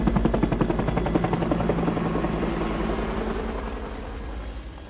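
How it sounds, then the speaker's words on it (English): A helicopter flies low over jungle in the 1987 film Predator, its loud rhythmic rotor thumping dominating at first and then slowly fading as it moves away. "how do you keep quiet and hide when you got helicopters in the air?"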